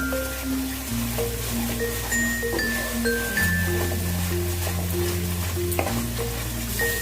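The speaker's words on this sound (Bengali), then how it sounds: "মশলাগুলোকে তেলের সাথে দু মিনিটের মতন একটু মিশিয়ে নিয়ে" Spices and green chili paste stirred in hot oil for a Bengali chicken chaap, a continuous close sizzle with soft stirring scrapes, while steady tonal background music plays throughout.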